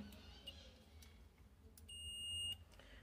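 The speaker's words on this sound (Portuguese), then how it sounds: "Como multímetro tá na escala de continuidade, essa escala aqui, ó, onde ele faz bip bip" A steady high electronic beep from a multimeter on continuity setting, testing a Black & Decker X6000 clothes iron, sounds once for about half a second, clear over a faint room hum, with a few small clicks around it.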